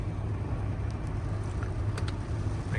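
A parked car's engine idling near a rainy Garden City, South Carolina beach, a steady low rumble with faint hiss throughout.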